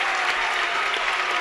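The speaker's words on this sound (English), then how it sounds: "Great crowd here at Alumni Hall" A crowd at a high school basketball game in Alumni Hall claps in steady, dense applause that fills the gym and holds at an even level throughout.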